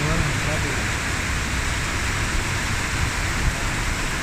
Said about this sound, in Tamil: இப்போ ஃபுல்லாக மழை, எங்கேயும் போக முடியல